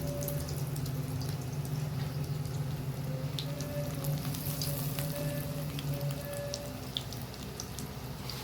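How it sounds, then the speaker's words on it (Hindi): Breaded potato cutlets, coated in egg and breadcrumbs, sizzle steadily in hot ghee, a dense continuous frying crackle with scattered pops and spits, close and fairly loud throughout with no talking. "अब हम इसको फ्राई कर लेंगे।"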